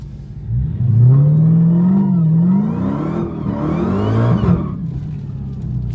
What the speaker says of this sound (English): That is a Mercedes E63 AMG.